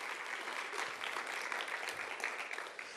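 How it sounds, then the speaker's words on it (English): Applause from an audience honoring a teacher at an agriculture teacher spotlight event, steady dense clapping throughout, moderately loud and without voices. "You clap for her."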